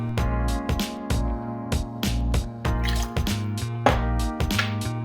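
Crème de violette liqueur pours into a cocktail shaker, heard as a rapid series of close, glugging drips and splashes of liquid with a low, resonant tone.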